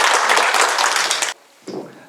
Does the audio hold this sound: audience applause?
yes